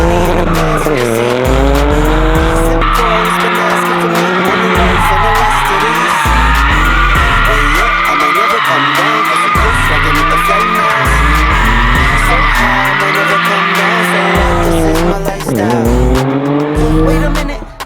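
A 350-horsepower Toyota GR Corolla running on E85 drifts hard, with tires squealing continuously over a loud revving engine that rises and falls through repeated throttle bursts for about eighteen seconds.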